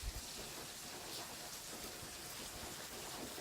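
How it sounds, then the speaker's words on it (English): Rain falls steadily outdoors, a constant broadband hiss with scattered drop patter and a faint low rumble at the start, heard alone without voices. "Finally, rain."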